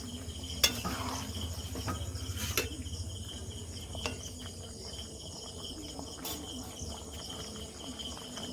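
Fried chicken being stirred in a pan for chilli chicken, with scattered metallic clanks from the spatula over a faint, continuous sizzle and high insect-like hiss.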